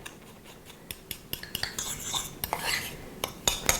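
A mustard, breadcrumb and rosemary coating is mixed in a bowl, with irregular scraping and clicking strokes of a utensil against the dish, close and quick, growing busier toward the end.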